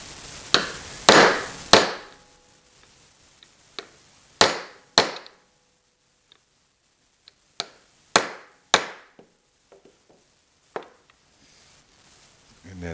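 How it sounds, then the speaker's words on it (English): A bearing being tapped into a Milwaukee handheld band saw with a 5/8 inch socket: a series of sharp, close metallic knocks, some in quick clusters and some spaced apart, with quiet gaps between them. "I'm just going to tap it on down in there the rest of the way."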